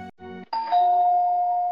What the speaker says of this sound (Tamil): காலிங் பெல் சத்தத்தில் கடுப்பாகி எழுந்த